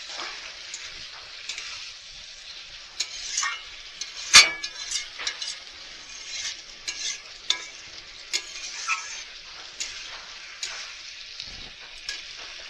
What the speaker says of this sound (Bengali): আমি অল্প অল্প করে জল দিয়ে দিয়ে দিয়ে দিয়ে কষিয়ে কষিয়ে এই রান্নাটা করব